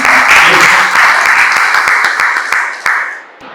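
An audience applauds loudly for a speaker at a laboratory opening event in a hall, a dense sustained wash of many clapping hands that fades toward the end.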